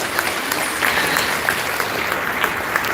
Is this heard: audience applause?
yes